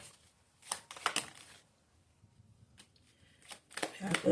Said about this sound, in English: Just going to put 3 more cards.